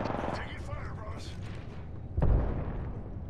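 Gunfire in an online battle royale shooter game sounds as a single low, muffled boom partway through, set under continuous voice chat and game background noise.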